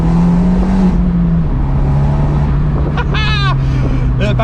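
An Abarth 124 Spider's engine hums loudly and steadily from inside the car, dropping slightly in pitch, while a person talks over it and a brief chirping squeal cuts in near the end.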